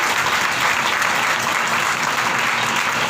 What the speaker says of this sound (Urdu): آئیے ذرا زوردار تالی اس بات پر خدا کے لیے بجائیے